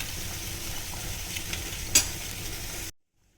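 Shallots, small vegetables and turkey berries sizzle and stir in a pot of jackfruit-seed mixed vegetable sambar, a steady close frying hiss with one sharp clink partway through, then it cuts to silence.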